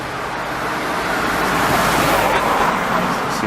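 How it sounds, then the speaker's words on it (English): Steady roadway noise of cars driving past on a road behind a cyclist, a continuous broadband rush that swells slightly mid-clip with no talk. "We have a couple more cars coming around the corner here again."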